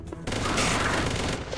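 A mech fires a weapon in the video game Mech Armada, a sudden loud burst followed by a dense rattling barrage that lasts about a second before easing off.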